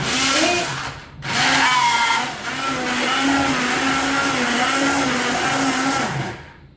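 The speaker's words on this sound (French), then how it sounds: "vous prenez votre casserole, vous prenez un mixeur plongeant, mixeur à soupe" An immersion blender whirs in a saucepan, mixing a potato sauce for an egg, bacon and potato gratin: a loud, close motor whine that cuts out briefly, restarts, then runs steadily before stopping.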